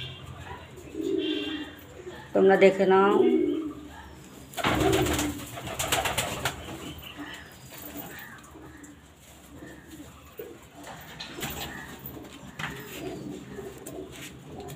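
Pigeons in their loft give soft, close coos and rustling wing flutters, with someone speaking briefly over the birds.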